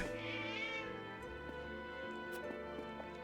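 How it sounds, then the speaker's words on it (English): Cat meowing in the video game Triangle Strategy, a short rising meow near the start over continuous game music, with soft game sound effects following. "Cat!"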